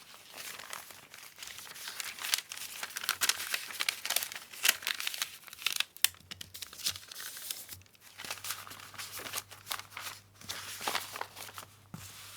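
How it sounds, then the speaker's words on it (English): Paper being torn and crinkled by hand for a travel junk journal kit, a close, busy rustle of ripping and crumpling that continues steadily at low volume with no talk. "then I can tear this away if I want to, which will give me backing paper while I'm away"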